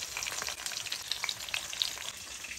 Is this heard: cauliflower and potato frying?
yes